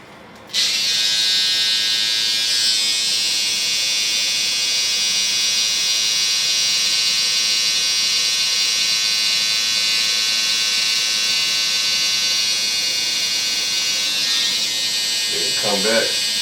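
Electric hair clippers buzz steadily close up while edging behind the ear during a haircut edge-up, running continuously for most of the clip with a voice speaking briefly near the end.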